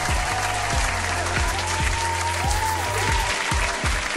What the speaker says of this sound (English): Hand clap for that.